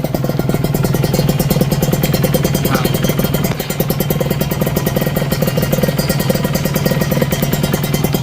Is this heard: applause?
no